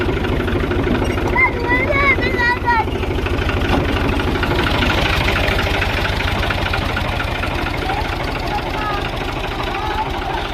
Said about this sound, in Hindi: इधर ट्रैक्टर चलाई आंदा है वेखो